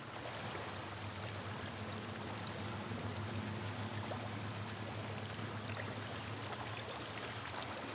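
Steady, continuous rush of dirty sewer water flowing through the sewers in The Last of Us on PS5, an even broadband wash with no breaks.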